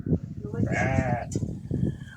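A Barbari goat bleats once, wavering and close, between bursts of nearby talk.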